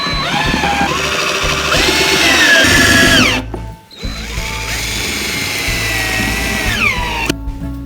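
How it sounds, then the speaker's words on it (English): A power drill drives pocket hole screws into a board of a king-size bed platform frame, whining loudly and steadily in two long bursts, its pitch sliding as each screw seats, with a brief pause between them. "then again we'll be using pocket hole screws"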